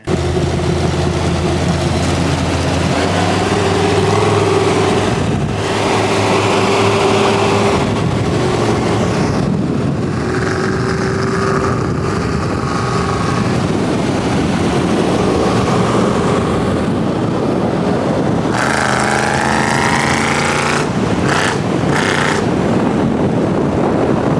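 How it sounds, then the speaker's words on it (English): GM LS-based V8 engine running in a 1973 Dodge D100 prerunner truck, a loud, steady low rumble throughout with a brief rise in engine noise near the end. "it's a GM LS based motor"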